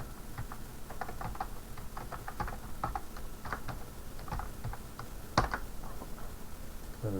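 Rapid irregular clatter of computer keyboard keys being typed, steady and close, with one sharper louder key strike near the end, no voices.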